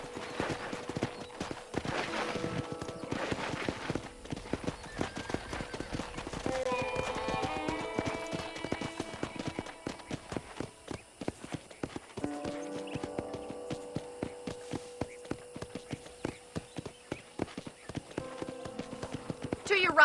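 Steady horse hooves clip-clop through a Red Dead Redemption ranch scene, a rhythmic run of sharp knocks lasting throughout, with a brief whinny and game music and speech layered over it.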